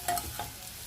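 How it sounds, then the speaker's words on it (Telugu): Carrot fry stirred in a pan gives a soft, brief sizzle with a couple of light scraping strokes, faint and close, with no voices. "క్యారెట్ ఫ్రైని ఒకసారి మిక్స్ చేద్దాం మనం"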